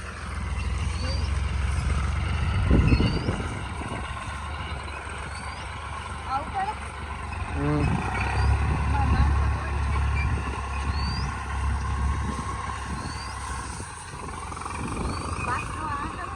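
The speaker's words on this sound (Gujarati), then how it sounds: "ટ્રેક્ટરનો અવાજ ફૂલ આવતો" A tractor engine runs in a farm field at harvest, a steady low rumble that swells and eases, with people talking over it.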